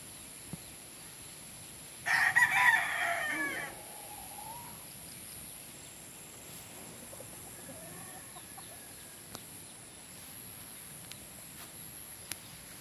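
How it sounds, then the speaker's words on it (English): A white and red rooster crows once, fairly close and clear, a single drawn-out call over a quiet rural farmyard, followed by faint distant bird calls. "and we have the white red rooster."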